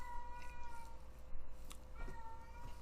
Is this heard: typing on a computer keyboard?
no